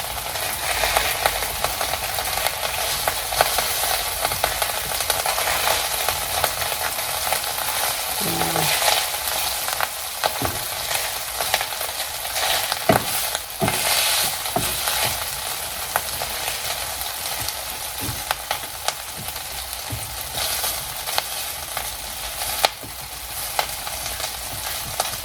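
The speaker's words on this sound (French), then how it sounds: "ce que j'aime pas quand ça cuit, c'est que ça pétouille" Food crackling and spattering in a sauté pan, a dense continuous sizzle peppered with sharp pops and occasional utensil knocks, fairly close and with no talk.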